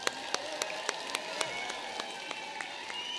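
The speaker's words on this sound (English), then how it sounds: "so let's give them a big round of applause." A crowd applauds graduates at a 2024 graduation ceremony. The clapping is steady and dense, with sharp, regularly spaced louder claps standing out above the wash of many hands.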